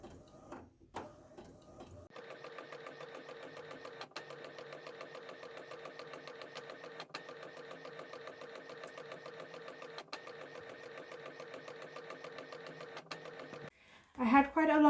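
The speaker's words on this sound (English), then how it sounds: "I'm now going to put these through the printer." A desktop printer feeds and prints collectible cards on glossy paper, a steady mechanical whirring with a regular pulsing rhythm that runs close and even for about eleven seconds, stopping briefly at intervals, followed by a short burst of voice.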